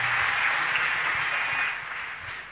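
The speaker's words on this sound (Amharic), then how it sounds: "ለጌታ አጨብጭቡ" Inside a church service, a congregation claps together in a steady, continuous wash of hand claps that stays full before easing slightly toward the end.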